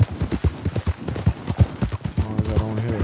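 Horse hooves gallop in Red Dead Redemption 2, a fast, rhythmic clip-clop of thudding strikes, close and loud, with a brief tonal game sound joining toward the end.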